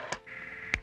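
Electronic tones from a portable computer terminal in a 1970s-era TV crime drama: a sustained mid-pitched beep bracketed by short sharp blips, close and clear with no talk.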